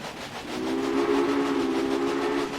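A train whistle in the Railway Empire video game, set on a German rail scenario, sounds as one steady, sustained tone. It swells in and holds loud and clear over a low rumble, with no talking.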